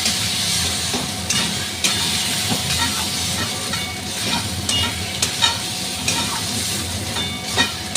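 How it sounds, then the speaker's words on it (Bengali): Taro cooking in a pan with salt, turmeric and chili powder is stirred steadily, with repeated scraping strokes over a constant loud sizzle and hiss, and no talking. "এবার ভালো করে এটাকে এরকম করে নাড়ব"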